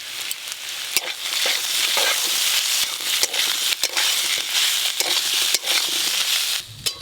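Ginger-cumin paste hitting hot oil in a pan gives a loud, steady crackling sizzle with occasional spoon knocks and stirring scrapes, close up with no voices.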